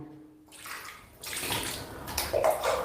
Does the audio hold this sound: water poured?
yes